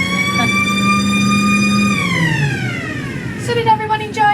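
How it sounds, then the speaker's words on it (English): A siren sounds loudly at the Blackpool Tower lift, a steady rising-and-falling wail that sweeps down in pitch and then fades, with brief noises afterward. "Just got to sound that siren again."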